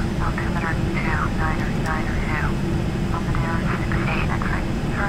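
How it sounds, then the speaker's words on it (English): Simulated Learjet 45 business jet engines roar steadily during a climb after takeoff in Flight Simulator X, a loud continuous drone with faint radio-like chatter warbling over it. "So Learjet 45, obviously a business jet."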